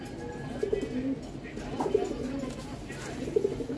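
A black-tailed fancy pigeon of a racing line gives several short, soft coos spaced about a second apart, close by and low in volume over faint room noise.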